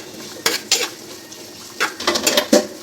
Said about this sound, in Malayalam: ഇങ്ങനെ വഴറ്റണം, നന്നായിട്ട് വഴറ്റണം.